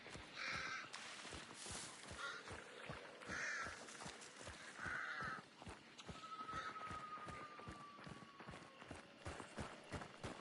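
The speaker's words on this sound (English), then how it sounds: "Birds." Crows cawing in the Hunt Showdown video game, several repeated caws at mid distance over a steady run of footsteps and ambient game noise.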